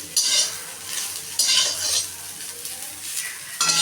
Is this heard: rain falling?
no